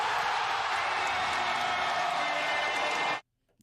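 A partly filled basketball arena crowd roars for a game-winning shot, a dense sustained wall of cheering that cuts off abruptly near the end into near silence.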